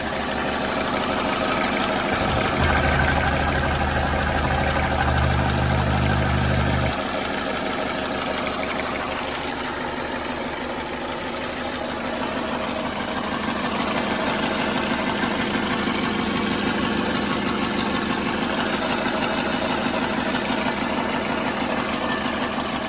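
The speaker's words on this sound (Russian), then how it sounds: "Работает очень шумно, как дизель, блин." A Mercedes-Benz W212 with the M271 turbo engine, warmed up and idling with a knock, makes a noisy, diesel-like clatter with a constant low drone and a steady fine rhythmic ticking throughout, close and fairly loud, with a brief deeper hum early on.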